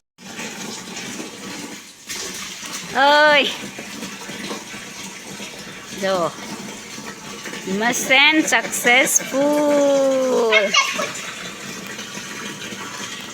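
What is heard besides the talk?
water flowing into a newly plumbed tank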